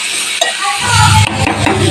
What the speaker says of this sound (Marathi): कांदा छान असा गुलाबी होईपर्यंत भाजून घ्यायचा.